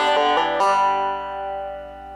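A banjo plays a short bluegrass measure moving from G toward D, three quick plucked notes including a hammer-on, then a single note left ringing and slowly fading.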